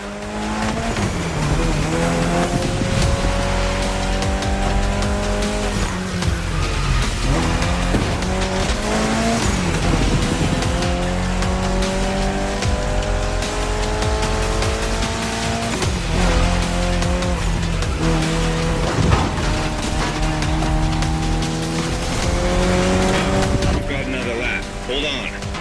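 A final-generation Mitsubishi Lancer Evolution racing in The Crew Motorfest roars steadily up and down through repeated gear changes, tires squealing in corners, a loud continuous engine drone lasting the whole stretch with a few short lifts between pulls.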